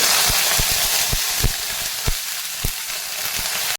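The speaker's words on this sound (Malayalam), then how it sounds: "വെളിച്ചെണ്ണ ചൂടായതിന് ശേഷം ഒരു ചെറിയ ടീസ്പൂൺ കടുക് ഇട്ട് പൊട്ടിയാൽ അതിലേക്ക് ഒരല്പം ഉഴുന്ന് കൂടെ ഇട്ട് കൊടുക്കുക" Mustard seeds, urad dal and curry leaves fry in hot coconut oil with a steady close sizzle, punctuated by sharp popping crackles roughly every half second, with no voices.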